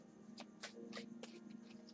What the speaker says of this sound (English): These are kind of hard to shuffle because they're so big.